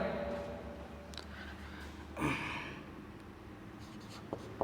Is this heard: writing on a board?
yes